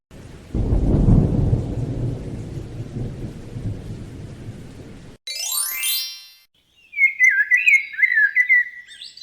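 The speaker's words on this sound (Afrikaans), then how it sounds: "Maar wag, ek moet nou juis 'n bietjie reën vir die aarde gaan gee." A loud roll of thunder with rain rumbles for about five seconds, then cuts to a rising whistle and bright chirping bird-like tones.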